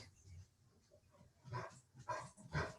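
Several dogs barking indoors during a remote meeting, three loud bursts coming in quick succession after a quieter stretch with faint background noise.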